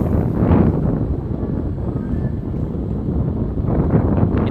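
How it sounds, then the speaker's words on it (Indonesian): Strong wind buffets the microphone outdoors in an Indonesian village, producing a loud, continuous low rumble that swells and eases in gusts with no other sounds standing out. "Di sini anginnya begitu sangat kencang sahabatku semua. Jadi mungkin suara anginnya agak mengganggu"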